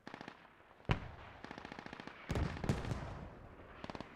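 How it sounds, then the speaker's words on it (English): Mortar rounds landing in the military shooter Squad: a run of distant crackling impacts with two heavier thumps, fairly faint overall, mixed with rattling gunfire and no talk. "And now mortars"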